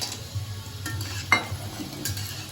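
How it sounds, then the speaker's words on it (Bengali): Bori lentil dumplings fry in a pan, a faint steady sizzle with a few soft stirring scrapes and one sharp clink of a utensil against the pan. "বড়ি কটা ভেজে তুলে রাখবো"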